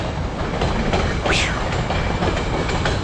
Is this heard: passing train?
yes